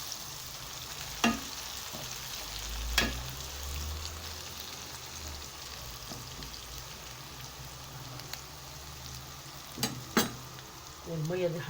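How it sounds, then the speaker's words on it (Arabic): Onions fry in very hot oil for Egyptian koshari, a steady crackling sizzle that stays fairly quiet, broken by a few sharp clicks and knocks of a utensil against the pan. "نزلنا يا جماعه بالبصل اهو على الزيت اهوت. الزيت سخن جامد."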